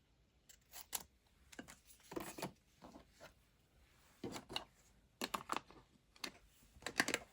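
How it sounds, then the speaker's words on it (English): Scissors snipping through a long craft paper strip, a series of short close crisp cuts in irregular bursts with pauses between, quiet and alone without talk. "I'm going to cut it."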